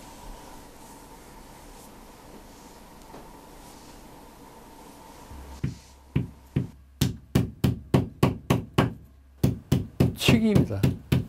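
A hammer strikes a chisel carving letters into hard wood in traditional Korean engraving, about a dozen sharp, close taps in a steady rhythm after a stretch of low background noise.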